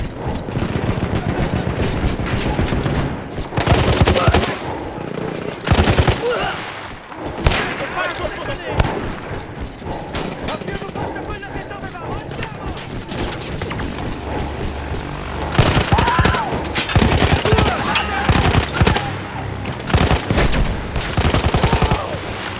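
Loud World War I machine gun bursts in Battlefield 1, fired from a gun emplacement taken over from Austro-Hungarian troops. Rapid rattling volleys keep repeating with brief gaps between them, mixed with clanks and other battle noise.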